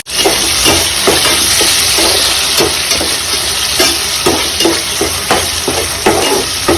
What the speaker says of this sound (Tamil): பச்சை மிளகா, இஞ்சி, பூண்டு 3த்தையும் போட்டுட்டு கொஞ்சம் நல்லா வதக்கி கொடுத்துடலாம்.